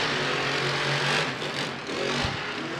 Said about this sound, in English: You hear that raspiness inside of Ryan's truck?